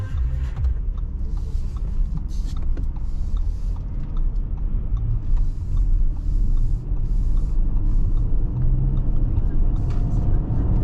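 2023 Audi Q8 pulling away from a stop, heard from inside the cabin as a steady low road and engine rumble that holds loud throughout, with someone talking over it.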